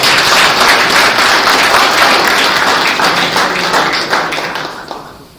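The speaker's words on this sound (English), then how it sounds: "We'll give a round of applause for the" Seminar attendees in a hall give a loud, close round of applause at the end of a session; many hands clap in a dense, sustained burst that thins and fades away over the final second.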